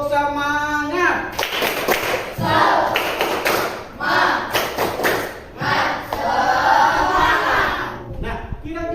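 A class of pupils chants and claps in unison for the tepuk semangat cheer, loud rhythmic bursts of hand claps and shouted syllables in repeated phrases, with a voice leading near the start.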